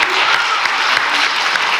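Audience applause at a university pharmacy research symposium, a dense steady wash of many hands clapping together, fairly loud and close, filling the short moment without any voices.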